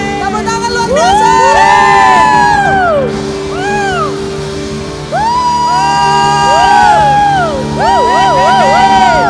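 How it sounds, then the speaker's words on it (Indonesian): A congregation at a Christmas worship service in Toraja cheers, whoops and shouts in a loud, sustained crowd roar, with high excited voices rising and falling over a steady dense wash of noise. "Tepuk tangan luar biasa."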